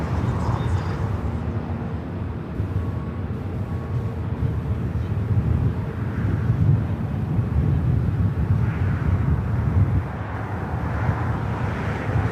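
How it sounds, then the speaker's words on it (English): A Delta Airbus A330neo jet taxiing toward a north-side takeoff at LAX, heard as a steady, loud low-pitched engine roar and rumble with some wind noise, continuous throughout. "we got that Delta A330 Neo now heading up here for north side takeoff"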